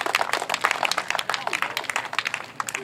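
An audience claps at a classic-car track racing event in Heinola, Finland, a dense patter of many hands at moderate distance, with a voice speaking over it.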